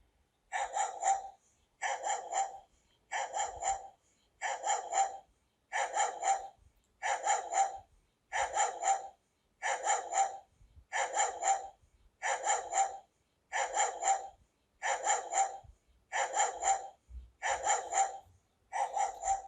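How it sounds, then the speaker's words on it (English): A dog barks in evenly spaced bursts, about fifteen in a row, each a short cluster of barks, at moderate distance with quiet gaps between. "let us first test for dog barking"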